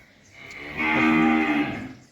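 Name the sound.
Friesian heifer calf mooing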